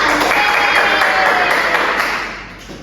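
A class of primary school students applauds in a classroom, a dense patter of clapping that holds steady and then fades toward the end, with no talk over it.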